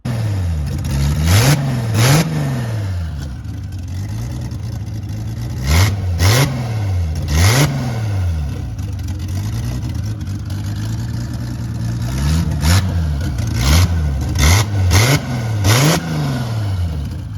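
Turbocharged car engine running without a wastegate, revved hard in short repeated bursts that rise and fall over a steady idle, loud and close with several sharp rev clusters.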